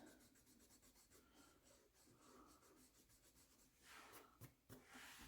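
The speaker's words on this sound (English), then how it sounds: "You can always take your eraser back in and erase to give you that light" An eraser rubs back and forth over pencil shading on paper, a quiet dry scratching that stays soft and close for a while, then turns briefly louder and rougher near the end, with no talk.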